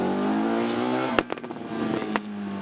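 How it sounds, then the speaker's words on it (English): A Formula Student race car engine drones at high revs nearby on a circuit, then shifts and pops as it changes gear and pulls away. "So the Brighton car is now back out on circuit."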